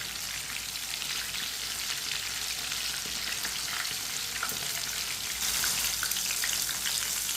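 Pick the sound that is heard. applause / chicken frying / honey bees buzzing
chicken frying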